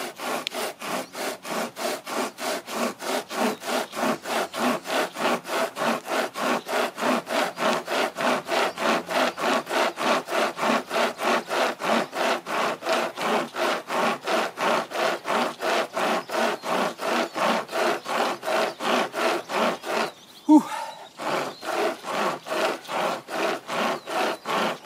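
A Nordic pocket saw cuts through an old tree trunk about 20 centimetres thick, giving a long run of steady back-and-forth rasping strokes, close and even, with a brief pause near the end.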